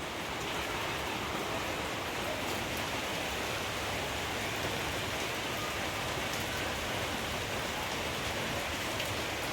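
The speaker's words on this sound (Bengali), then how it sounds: "আর এইদিকে দেখো বৃষ্টি পড়ছে" Steady, even rain pours down continuously, a dense wash of falling drops with no talking or breaks.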